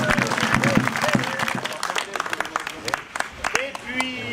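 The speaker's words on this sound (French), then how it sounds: "on applaudit les tambours et fifres du Haut-Verdon" Audience applause for the Haut-Verdon drum and fife band at a village theatre tour event: dense, steady clapping from a crowd, loud and sustained, with voices and faint whistling tones mixed underneath.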